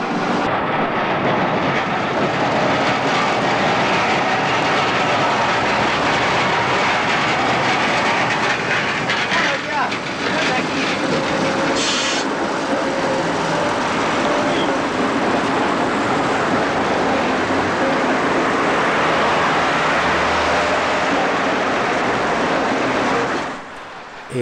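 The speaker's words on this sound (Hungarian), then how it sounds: "Pedig már a két mozdony jön ki a déli pályaudvarról az Alkotás utcára" Two MÁV diesel locomotives roll at night along Budapest tram tracks on Alkotás utca, a loud, steady low engine rumble and rolling noise sustained throughout, holding near and constant before easing at the end.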